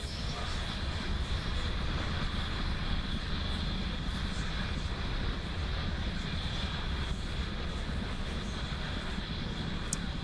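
Falcon 9 rocket climbing through its ascent phase in a Roblox game, a steady, dense, continuous roar rumbling without break from start to finish.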